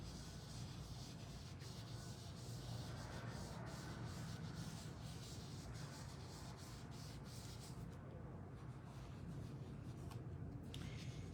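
A blending tool scrapes ink across cardstock in a steady, close, raspy rubbing with repeated short strokes, faint and continuous.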